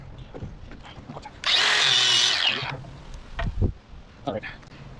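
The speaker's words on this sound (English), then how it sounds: "I need to cut this piece of plastic off." A power tool cuts through a piece of plastic on a shifter adapter for a 1st-generation Cummins truck with an NV4500 transmission and NP205 transfer case: one loud burst of just over a second, with scattered handling noises and brief speech before and after.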